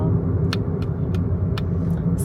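A car cruises along a long highway trip, a steady low road rumble and engine drone inside the cabin, with short sharp clicks and ticks scattered over it and a voice speaking at times.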